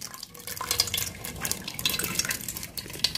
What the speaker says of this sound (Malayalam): നമ്മള് അരിപ്പ് എടുത്ത് ആ പാത്രത്തിലേക്ക് ഒഴിക്കുകയാണ്